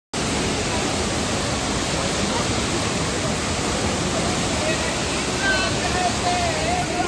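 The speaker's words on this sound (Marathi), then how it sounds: "आणि जेव्हा पाणी वरून खाली पडतं" Kempty waterfall in Mussoorie, with water plunging from above, makes a loud, steady, broadband roar that fills every moment without pause, and faint voices are barely present underneath.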